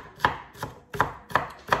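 Knife chopping onion on a board: five sharp, evenly spaced chops about a third of a second apart, close and clear, with no talking.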